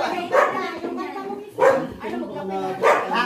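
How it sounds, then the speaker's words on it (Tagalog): Several dogs bark and yelp in three loud bursts about a second apart, with chatter and voices from a birthday gathering running underneath and between them. "Kumakanta pa yung mga aso"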